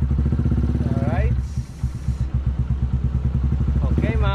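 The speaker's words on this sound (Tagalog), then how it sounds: "painitan na lang natin yung makina ni Mia nang makalabas na tayo" A motorcycle engine idles steadily as it warms up, running close and continuous throughout, with a voice talking over it.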